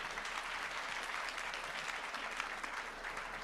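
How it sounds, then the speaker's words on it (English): Audience applause fills a fireside chat event, a steady dense round of clapping from a crowd, moderately distant and even throughout with no talk over it. "let's give him a round of applause."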